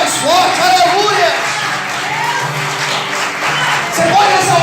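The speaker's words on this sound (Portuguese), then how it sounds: "Você pode aplaudir e glorificar a Deus por isso" A church congregation claps and cheers during a sermon, loud crowd applause with shouts mixed in, while a preacher's voice carries over the top.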